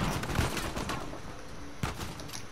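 Pistol gunfire in Uncharted 4, with a couple of sharp shots standing out, the loudest near the end, over a busy bed of game combat noise.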